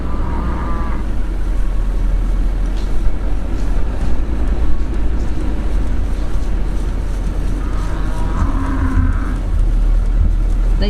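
A truck rolls slowly through a cattle pasture on a beef homestead, a steady low engine rumble with wind noise and faint distant sounds from the herd.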